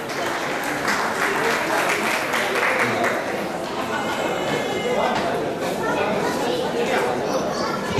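An audience at a Sydney stage show claps steadily for a couple who donated the evening's trophy, the sustained applause running beneath an announcer's voice.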